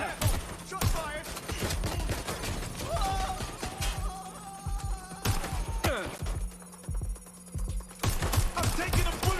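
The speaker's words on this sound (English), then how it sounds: "Shots fired!" Bursts of automatic gunfire in the video game Watch Dogs Legion, rapid overlapping shots with loud cracks and clattering impacts, continuous across the clip with short pauses, game voices calling out between volleys.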